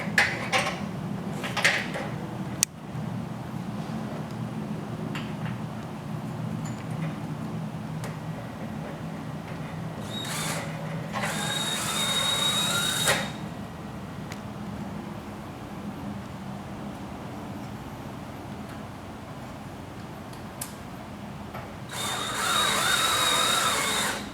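A power drill drives screws through a Bahama shutter hold-down bracket into a wall, in two whirring bursts over a steady background hum.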